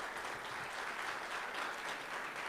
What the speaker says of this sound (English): Give a big round of applause for 2 wonderful candidates.